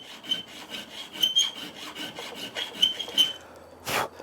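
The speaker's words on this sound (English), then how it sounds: "just put the pointed end of the file, these are 60 degrees, and just backwards and forwards" A tapered file rasps back and forth in 60-degree cuts, a close, scratchy rhythm of repeated strokes that ends with one louder scrape.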